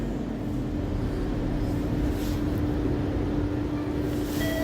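London Underground Northern Line train running on the Charing Cross, Euston and Hampstead line toward Edgware, a continuous low rumble and steady hum with a sustained tone, heard from inside the carriage without talk.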